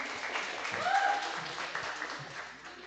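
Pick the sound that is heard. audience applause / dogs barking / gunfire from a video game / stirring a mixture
audience applause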